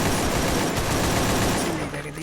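Rapid gunfire in a shooting video game, a continuous rattle of overlapping shots that tapers off near the end, with a faint voice underneath.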